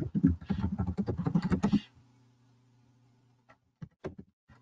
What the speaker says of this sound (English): Oh, we can hear you typing.